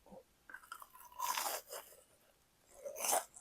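Crunchy fried shrimp tempura being bitten and chewed up close, with loud crisp crunches in two bursts separated by quieter chewing, no talking.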